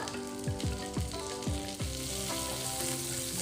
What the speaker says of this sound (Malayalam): എണ്ണ ചൂടായി വരുമ്പോൾ അതിലേക്ക് ഒന്നര ടീസ്പൂൺ വെളുത്തുള്ളി ഇട്ട് കൊടുക്കാം